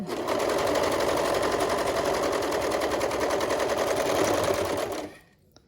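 A sewing machine stitches a hood seam in a fast, even, continuous whir of needle strokes, running close and steady for about five seconds before stopping abruptly.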